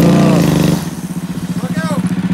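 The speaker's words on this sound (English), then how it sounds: "All right, show us a few more donuts there, Brad." A 250cc prototype dirt bike spins donuts on an icy surface, its engine revving loudly at first, then settling into a pulsing, rhythmic chug close by as the rider turns in circles, with people talking over it.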